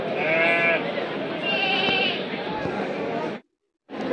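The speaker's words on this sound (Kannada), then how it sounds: "ಕೆಂಗೂರು ಕುರಿಗಳು ಇವು ಕೂಡ ಬೇಗನೆ ಗ್ರೋತ್ ಆಗುತ್ತೆ." Kenguru sheep bleating at a crowded farm fair in Dharwad, a continuous, close, wavering bleat lasting several seconds over a bed of crowd chatter, then a brief silence and renewed noise.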